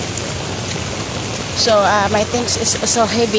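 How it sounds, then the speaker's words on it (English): Heavy rain falls at a market, a steady broadband hiss running throughout as someone talks close over it. "It's really having a strong rain and heavy."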